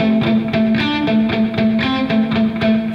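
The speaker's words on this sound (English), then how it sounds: "you've been doing a alternate picking pattern that sounds like this" Distorted electric guitar plays a steady alternate-picking riff, a dense run of evenly spaced picked notes, loud and continuous with no talking.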